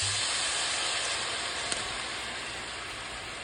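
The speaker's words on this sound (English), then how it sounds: "And then I'm gonna deglaze with some white wine." White wine poured into a hot pan of garlic for creamy chicken pesto pasta, giving a steady, loud hissing sizzle that holds evenly throughout with a brief sharp tick midway.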